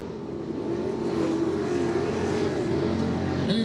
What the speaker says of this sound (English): Tell you what, Kip's truck sounds mean though.